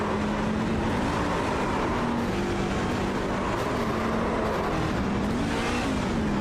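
Race truck engine drones loud and steady at Atlanta Motor Speedway in a racing video game, pitch dipping and rising as it shifts gears, with other engine noise around it.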